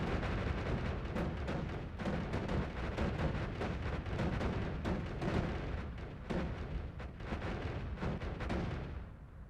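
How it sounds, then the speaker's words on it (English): A fireball thrower spell fires from a wand in the video game Noita, a rapid dense stream of crackling explosive bursts that continues loudly for several seconds before tailing off at the end. "we're going to throw a fireball thrower on there. And it'll fire something like this"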